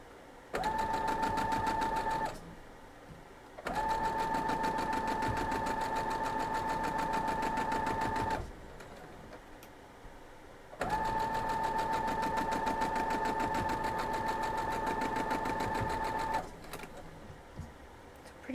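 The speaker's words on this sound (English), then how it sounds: "Let's sew this up." Sewing machine stitching quilt block pieces in two long steady runs, a continuous whirring hum with a fixed whine, separated by short pauses, fairly quiet and close with no talk.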